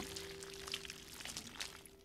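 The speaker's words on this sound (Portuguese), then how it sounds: "Olha, estante, vassoura, água sanitária. Vamos despejar no chão." Bleach is poured out onto a floor indoors, making a steady, faint splashing trickle that runs for a couple of seconds over a low constant hum, with no talking.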